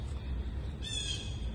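A crow-like bird caws once in a short harsh burst partway through, over steady low background rumble at a tiling job on a tub and shower.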